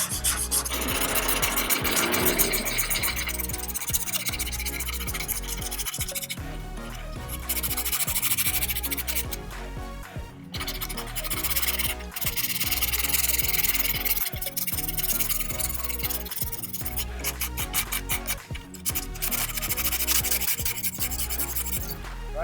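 Repeated rhythmic strokes of 120 grit sandpaper rubbing across a carbon fiber surface, close and scratchy, with brief pauses between bursts.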